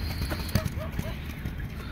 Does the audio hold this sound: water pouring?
no